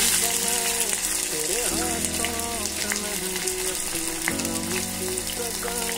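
Onions fry in hot coconut oil alongside prawns, giving a loud, steady sizzle with a musical tone running underneath and no talking.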